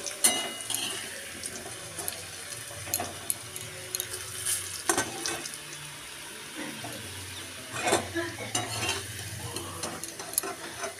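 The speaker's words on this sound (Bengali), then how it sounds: "দিয়ে এটাকে নাড়াচাড়া করে ভেজে নিচ্ছি।" Potatoes frying with turmeric are turned in the pan, giving a steady sizzle broken by intermittent scraping stirs and light clinks. The sounds are near and moderate in volume, with no talking.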